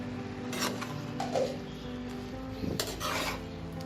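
A lid set onto a cooking pot while Bengali lau ghonto with bori simmers, giving two light metallic clinks and rattles a couple of seconds apart, faint and close.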